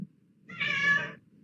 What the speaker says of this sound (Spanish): No sé si están escuchando ese ruido de mi gatita que entró